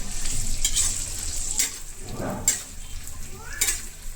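Onions sizzle steadily in a pan for an egg potato curry while a spatula stirs them, with periodic scraping strokes and light metallic clinks, close and moderately loud.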